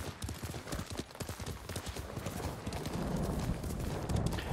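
Horse hooves clip-clopping in Ghost of Tsushima, a steady rhythmic trot of close, loud footfalls that quickens slightly toward the end, with a faint game ambience underneath.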